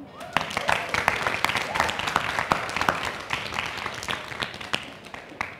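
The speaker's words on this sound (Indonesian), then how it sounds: "Boleh tepuk tangan?" An audience at an ARTJOG art event talk applauds, a dense crackle of many hands clapping with sharp individual claps standing out, fairly distant and steady throughout.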